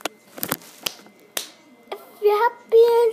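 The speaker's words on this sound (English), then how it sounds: "clap your hands" Children clap along to a sing-along song, a few sharp separate claps near and loud, followed by childlike singing voices.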